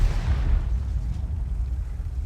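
Tank firing a high-explosive shell in a tank video game, a heavy low boom at the start that rumbles and decays over about two seconds, with no speech.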